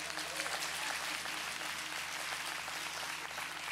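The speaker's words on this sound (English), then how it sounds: "let's give our worship team a round of applause" A church congregation applauds its worship team, a continuous wash of clapping heard at a distance over low background hum, with voices faintly mixed in.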